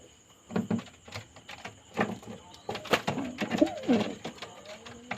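Close pigeons coo in low, throaty bursts amid fluttering wings and scuffling, with a few knocks and bumps.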